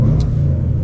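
A 2020 Jaguar F-PACE SVR V8 with its active exhaust open idles in a loud, steady, deep rumble, heard up close throughout.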